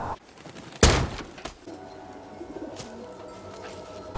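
A bird coos in soft low tones after a sharp thud near the start, with quiet ambient noise around it.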